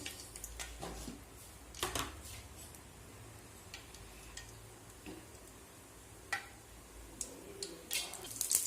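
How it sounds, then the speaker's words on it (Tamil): Mustard seeds splutter in hot oil in a pan, giving scattered sharp pops and crackles at an irregular rhythm over a soft steady sizzle, growing busier toward the end. "இப்போ கடுகு நல்லா பொரிய ஆரம்பிச்சிருச்சு"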